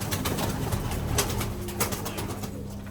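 Pigeons at a bird sale coo and murmur in a dense, continuous chorus, with scattered flutters and calls from many birds close by and no talking.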